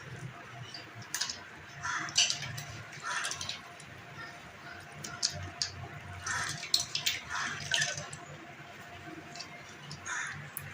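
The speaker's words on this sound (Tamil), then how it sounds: "நல்லா கழுவிட்டு ஒரு வடிதட்டில் தண்ணியை வடி வச்சு எடுத்துக்கலாம்." Washed lentils sit in a metal strainer in a home kitchen while water drains off, giving faint irregular trickles and soft drips with small clinks, quiet and close, with no talking.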